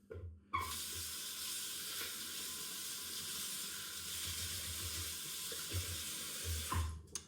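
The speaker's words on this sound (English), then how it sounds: "I hit it in the bottom of the sink some, and then I rinse it out and then go again." A razor rinsed under a running tap in a bathroom sink, a steady hissing rush of water that starts abruptly, runs continuously with small splashes and a couple of knocks near the end, close and fairly quiet, with no voice.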